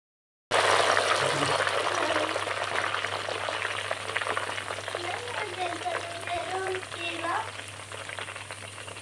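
Butter simmers into ghee in a pan with a continuous soft sizzle and bubbling that stays steady and moderately close, while someone talks over the cooking.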